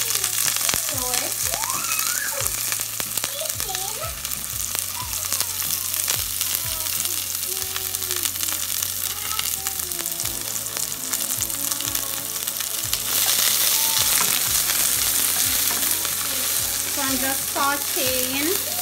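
Seasoning fries in olive oil in a pot with a constant, close hiss and crackle that runs the whole time, while a voice talks intermittently on top.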